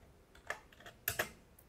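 Several quick, close keystrokes tap on a computer keyboard in short bursts, crisp and light against a quiet room with no one speaking.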